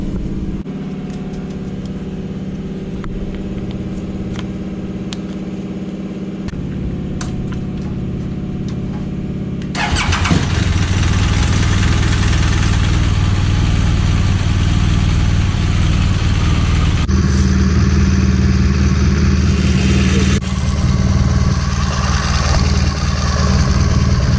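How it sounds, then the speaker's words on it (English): A BMW R1200GS motorcycle engine idles steadily, then fires up louder and keeps running at a close, even idle for the rest of the stretch, with no talking. "then we will start the bike up, let it run for a little bit"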